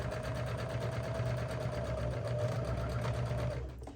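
A sewing machine stitches a fabric tote bag, producing a close, continuous whirring hum with a quick rhythmic needle patter. It runs steadily and then winds down and stops near the end.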